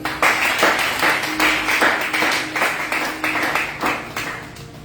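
A church congregation claps in steady rhythmic unison, loud and close, acclaiming the Lord during a French-language worship service, with a few voices faintly under the claps.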